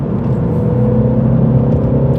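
A 2016 Mini Clubman Cooper S accelerating in sport mode: a loud, steady engine drone and rumble heard from inside the car, with no gaps or breaks.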